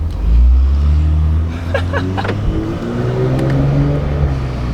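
A Gen 3 B58 engine fitted with a catless downpipe revs with a loud, deep, throaty roar, rising and holding at close range in a burst of a few seconds.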